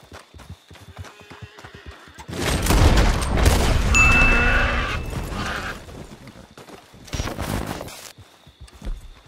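Gunfire in the video game Red Dead Online, a loud stretch of shots and rumbling mixed with galloping hooves, rising and fading over several seconds, with quieter gaps on either side.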